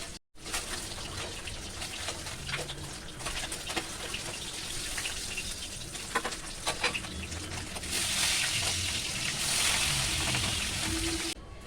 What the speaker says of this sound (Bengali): এরপর আমি মাছটাকে ভেজে এর মধ্যে মিশাবো